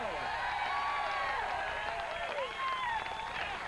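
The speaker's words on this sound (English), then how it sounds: "that brought the crowd alive" A crowd cheers and applauds after a long, high water ski jump at a 1985 pro tour event on Lake Cumberland, Kentucky, a steady outdoor roar with whistles and shouts sustained throughout.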